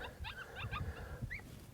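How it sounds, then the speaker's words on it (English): A coyote pup distress call from an electronic predator caller during a Nevada coyote hunt: a string of high, yipping whimpers and squeals, moderately loud outdoors over a low rumble of background noise. "I'm just switching from pup distress to pup distress, and they're running back in."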